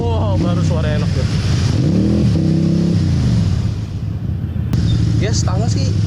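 Harley-Davidson style V-twin motorcycle engine revving while being ridden in second gear, a deep throbbing roar rising and falling through the throttle, loud and close, with someone talking over it.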